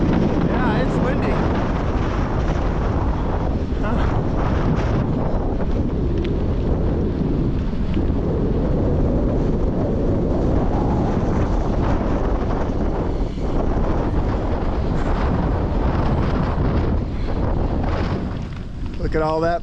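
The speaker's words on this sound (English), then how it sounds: "Yeah, it's windy." Steady, heavy wind in Costa Rica roars and buffets the microphone throughout, a constant rushing blast with no letup.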